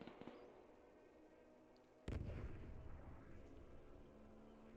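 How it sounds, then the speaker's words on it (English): Gunfire and explosive bursts in a Men of War 2 battle, with a heavy blast partway through followed by sustained rumbling fire. "Oh, I hear gunfire."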